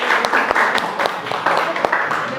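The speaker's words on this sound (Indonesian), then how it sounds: "Beri tepuk tangan yuk untuk kelompok 1 dan 3" Classroom applause for student groups 1 and 3 during a history lesson, a small group clapping loosely and unevenly for a couple of seconds, with voices chattering underneath.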